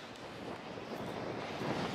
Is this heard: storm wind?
yes